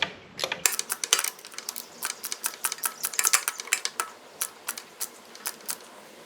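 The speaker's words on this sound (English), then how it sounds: "I'm using a small ratchet." A small hand ratchet clicks rapidly under a 2008–2020 second-generation Suzuki Hayabusa during an oil cooler block-off install, giving a close, crisp train of metallic ticks in uneven bursts with no talk.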